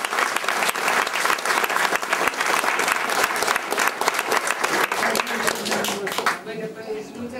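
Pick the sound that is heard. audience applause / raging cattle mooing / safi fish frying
audience applause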